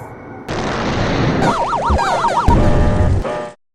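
A film explosion as a spacecraft is shot down: a loud, close burst with a heavy rumble, then an oscillating whine and a second blast that fades out abruptly.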